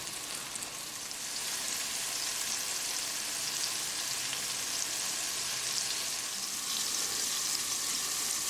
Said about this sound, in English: shake the extra flour and place it right in the fry pan